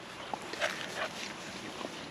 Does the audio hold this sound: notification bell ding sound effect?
no